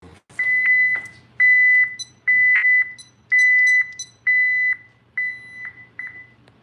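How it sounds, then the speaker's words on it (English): A building's security alarm keypad beeps in a steady series of about seven long electronic tones, each separated by short gaps, close and clear against a quiet low hum. "Let me go here and set this alarm off."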